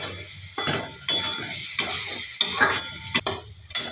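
Turmeric, Kashmiri chilli and cumin powders frying in a pan for rui fish chochchori, close sizzling with a spatula scraping and clinking in several quick stirring strokes, no speech.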